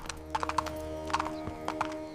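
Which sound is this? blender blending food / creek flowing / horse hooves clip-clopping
horse hooves clip-clopping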